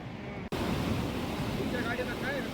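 The Rameshwar Sautada waterfall runs full with heavy water, giving a steady broadband rushing roar. The roar breaks for a brief cut near the start, and faint tonal squeaks sit above it toward the end.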